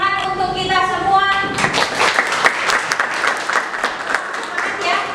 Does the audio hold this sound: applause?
yes